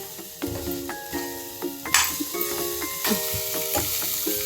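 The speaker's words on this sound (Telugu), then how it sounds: "మళ్ళీ ఒకసారి ఇలాగా కలిపేసుకోండి." Crab fry with coriander being stirred in a hot pan: a steady sizzle with a few sharp spatula scrapes and clinks, close and moderately loud, with a louder stroke partway through.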